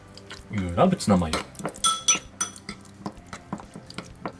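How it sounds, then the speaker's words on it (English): Tuna and mayonnaise being mixed in a bowl: soft scraping and clinking of a utensil against the dish, with a burst of vigorous stirring near the start and then lighter, irregular taps. "and mix with mayonnaise."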